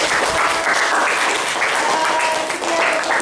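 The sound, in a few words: students clapping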